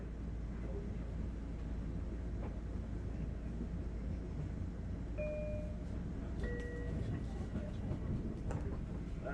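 A Long Island Rail Road train to Ronkonkoma rumbles toward Jamaica Station, a steady low onboard roar with brief squeals and tones while a person talks over it.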